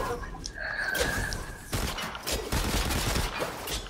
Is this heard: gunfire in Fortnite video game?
yes